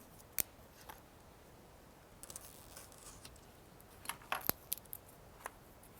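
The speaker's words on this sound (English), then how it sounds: "I'm going to trim these down just a little." Sharp, faint snips and clicks come from trimming foam core pieces, scattered single cuts with a couple of tighter clusters in a quiet room, no talk.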